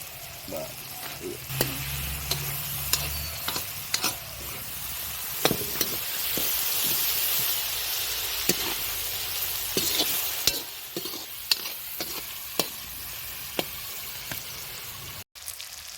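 Meat fries with turmeric in a pan, sending up a steady loud sizzle for the whole stretch, broken by frequent stirring scrapes and clinks.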